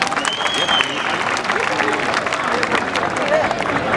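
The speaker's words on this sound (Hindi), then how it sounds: "तो उनके स्वागत के लिए तालियां।" A crowd at a village wrestling match claps in welcome for an arriving wrestler, giving sustained, fairly loud applause with crowd babble and voices mixed in throughout.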